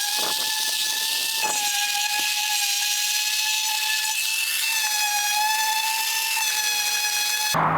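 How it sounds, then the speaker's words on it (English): A DA sander sands epoxy filler on a C5 Corvette bumper, giving a loud, steady high-pitched whine with ringing overtones that runs nearly the whole time and cuts off abruptly at the end. "So I sanded it down with the DA sander"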